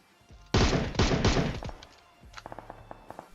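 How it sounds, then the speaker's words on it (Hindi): Gunfire in PUBG Mobile: a close burst of several loud shots, then a quieter string of distant pops. "मैंने बस 2 गोली चलाई और एक सर पे लग जाती है।"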